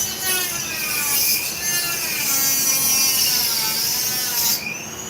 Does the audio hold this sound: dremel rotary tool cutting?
yes